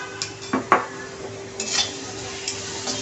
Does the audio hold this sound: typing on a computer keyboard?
no